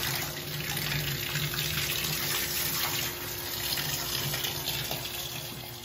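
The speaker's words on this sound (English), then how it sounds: "So I'm filling this up with water." Tap water runs steadily into a bathtub, filling it for wetting a T-shirt before tie-dyeing; a continuous, fairly loud rushing splash fills the whole stretch with no talk.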